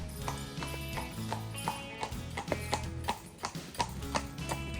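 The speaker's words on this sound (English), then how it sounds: "You can take a horse-drawn carriage like these people." Hooves of carriage horses clip-clopping along a lakeside path at Muckross Lake, a steady rhythmic clatter of hoof strikes, moderately near and fairly quiet amid faint background noise.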